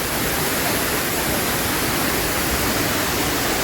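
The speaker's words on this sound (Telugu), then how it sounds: "సూచీపర వాటర్ ఫాల్కి అయితే వచ్చానండి అద్భుతంగానే ఉంది వాటర్ ఫాల్" Soochipara Falls in Wayanad roars as a loud, unbroken wash of falling water, a dense steady rush that fills the scene without pause or voices.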